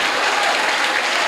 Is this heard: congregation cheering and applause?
yes